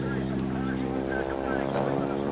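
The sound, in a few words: modified Stearman biplane with 450 horsepower engine at air show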